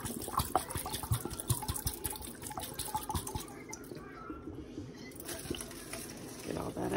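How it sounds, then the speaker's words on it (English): Running water rinses out a glass hummingbird feeder after salt cleaning, a close splashing and dripping stream with sloshing inside the glass and a brief quieter lull midway. "I do rinse one or two more times just to be sure."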